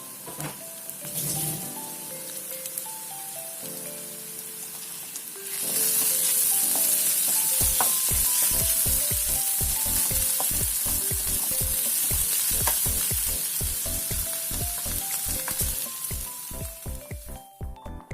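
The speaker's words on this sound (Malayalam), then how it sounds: "ഉള്ളി ഒന്ന് ചെറുതായിട്ട് വഴഞ്ഞു വന്നു കഴിഞ്ഞാൽ അതിലേക്ക് നമുക്ക് വെളുത്തുള്ളിയും പച്ചമുളകും ഇട്ട് കൊടുക്കാം." Onion, garlic and green chillies sautéing in a pan, a steady sizzle and frying hiss that swells midway, joined by rhythmic stirring taps over background music, with no talking.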